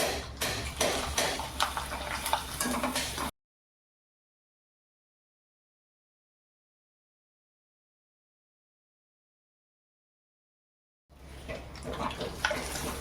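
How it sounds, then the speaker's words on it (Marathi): Homemade potato wafers frying in hot oil over a medium flame, a dense close sizzle and crackle that cuts out in the middle and then resumes, with no voices. "जरा मिडियमच गॅस ठेवायची आणि वेफर तळून घ्यायचे"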